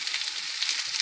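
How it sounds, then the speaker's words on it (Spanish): Vegetables frying in oil for Ukrainian beet borscht, giving a steady, soft hiss of sizzling close by with no voices. "freímos hasta que se pone color dorado"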